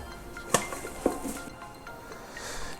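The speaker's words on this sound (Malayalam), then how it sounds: "ഇതിൽ പാത്രം കമഴ്ത്തിയിട്ട് മറച്ചിടുന്ന ഒരു മാർഗ്ഗം കേട്ടോ." A plate is set over an omelette pan to flip the omelette, with a couple of sharp clinks of the plate against the metal pan over a soft background hiss.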